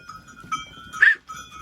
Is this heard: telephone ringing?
no